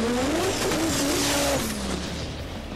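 RB30-powered Nissan Gemini drifting at a Sydney drift event, its engine wailing loudly and close with continuous tire squeal, the pitch wavering before easing down.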